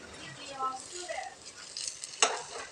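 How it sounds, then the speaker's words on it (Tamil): Food frying in a pan of mixed coconut and peanut oil for paruppu, with soft bubbling sizzle, spoon stirring and a sharp clink of utensil against the pan, close and fairly quiet. "இது நான் தேங்காய் எண்ணெயும் கடலை எண்ணெயும் கலந்து ஊற்றிருக்கிறேங்க. அதனால் அப்படி பொங்குற மாதிரி வரும்."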